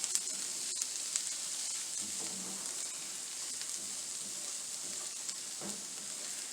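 Sage frying in a pan, a steady soft sizzle with faint stirring scrapes throughout, moderately quiet and alone.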